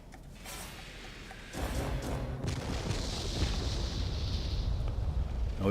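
Rockets launch and strike tanks in a World of Warplanes air battle, flown in an IL-40 attack jet; a steady engine drone gives way to a sudden loud roaring rush of fire and rumbling explosions.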